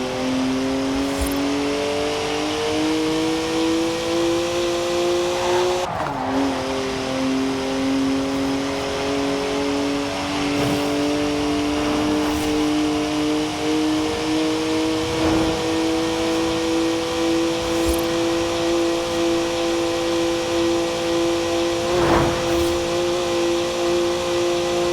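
A BMW twin-turbo three-litre straight-six, 335 horsepower, revs in a Forza Horizon 4 race, its engine note climbing steadily with several sharp gear-change dips and brief surges over about twenty-five seconds, loud and continuous.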